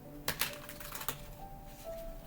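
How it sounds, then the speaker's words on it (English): A stiff tarot deck shuffled up close, with quick light clicking and slapping of cards in short irregular bursts over a faint steady hum, quiet throughout. "I love the artwork on this deck, but it is like one of the hardest decks I have to shuffle."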